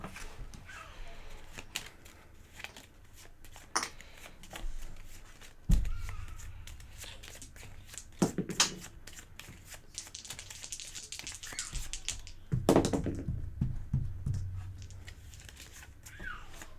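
Cards for the Monster Slaughter board game are shuffled at a table, with several bursts of riffling and clacking scattered among quieter handling noises, and a voice speaks faintly in the background.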